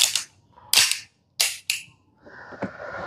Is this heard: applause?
no